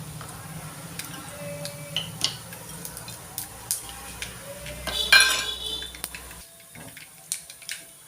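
Urad dal crackling in hot oil for a tempering for coconut chutney: sparse sharp pops and clinks of a pan and spoon over a low background, one brief louder burst near the end.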